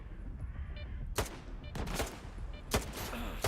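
Sharp gunshots crack in STALKER 2 during a headshot attempt: a few loud, distinct reports spaced about a second apart over low ambient rumble and scattered quieter background fire.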